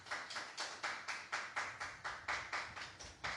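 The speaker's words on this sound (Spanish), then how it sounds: "Dale un aplauso al Señor." A church congregation claps together in a steady rhythmic beat, about four claps per second for over three seconds, evenly spaced with no voices.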